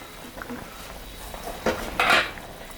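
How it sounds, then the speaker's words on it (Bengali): A metal lid clatters as it is lifted off a pot of simmering fish curry, a couple of quiet clinks followed by a brighter scrape and rattle near the end, close by. "10 মিনিট হয়ে গেছে, ঢাকাটা আমি তুলে নিলাম।"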